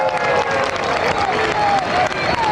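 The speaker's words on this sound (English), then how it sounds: "Justin Thomas, that's the applause that you can hear there." Golf spectators applauding at the Ryder Cup on the 11th hole, a dense, steady wash of clapping from a sizeable gallery sustained throughout, with crowd murmur mixed in.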